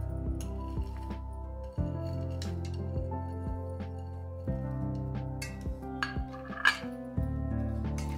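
A spoon stirs grated dry coconut, sliced almonds and cashews, raisins and pistachios in a metal bowl for Janmashtami panjiri, giving repeated clinks and scrapes over soft rustling, with no talking.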